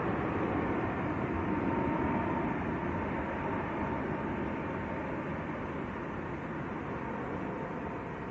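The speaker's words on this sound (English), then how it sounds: "That's Ryanair to Dublin, just blasting off." A Ryanair airliner bound for Dublin roars down the runway on takeoff, a steady, loud broadband rumble that holds constant and eases very slightly toward the end, with no voices.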